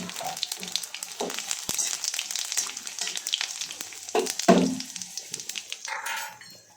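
Bay leaf, dried red chillies and spices frying in oil for a moong dal fish head curry, a crackling sizzle with irregular pops and stirring knocks, close by, with a brief voice-like burst partway through.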